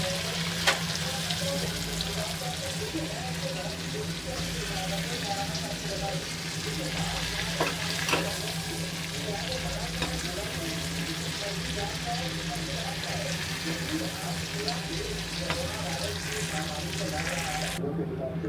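Chicken curry ingredients fry in a pan with a steady, fairly quiet sizzle and hiss, broken by a few small clicks and pops, lasting almost twenty seconds.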